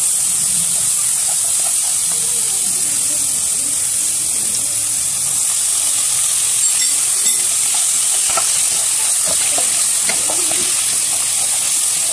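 Ingredients for tekwan fish broth are sautéed in a pan, giving a loud, continuous sizzling hiss with occasional stirring clicks and scrapes. A voice speaks faintly underneath.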